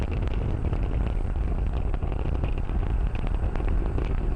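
Falcon 9 first-stage Merlin engines throttled down in flight ahead of max Q, a dense continuous roar with a steady low rumble and crackle, loud and unbroken throughout with no talk.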